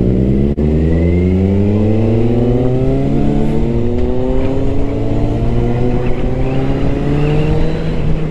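A vehicle accelerates on a casual Sunday ride, its engine pitch rising steadily and loudly through a long pull with a short dip between gears.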